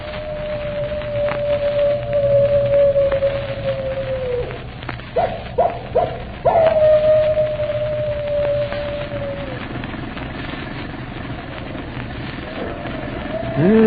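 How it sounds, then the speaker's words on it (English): An animal howl from an old radio drama episode, with a long, wavering howl that slides downward, broken by short yips, then a second sustained howl rising again, set against thin, band-limited broadcast noise. "you can hear his animal howl a hymn of death"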